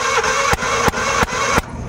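A Suzuki Every DA64V engine cranking over during a compression test, a rhythmic series of about four sharp chugging pulses under the starter's whir, close and loud, ending abruptly as cranking stops.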